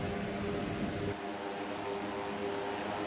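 A Royal Nepal Airlines Twin Otter climbs out after takeoff from Janakpur, its turboprop engines giving a steady, loud drone inside the cabin with no talk.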